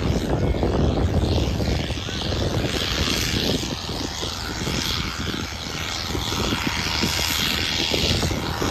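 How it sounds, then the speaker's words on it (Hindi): A 5210 tractor engine drones steadily and loudly for several seconds at a tractor competition, with a rough, throbbing mechanical roar that never lets up. "बहुत बढ़िया ट्रैक्टर चल रहा है"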